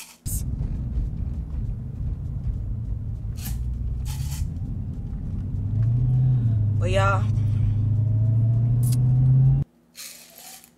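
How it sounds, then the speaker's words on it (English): Car engines rumble and rev loudly, with a surging throttle sound building toward the end before cutting off abruptly; people talk over the steady engine noise. "them cars be sounding real good. Like they got fresh engines in them"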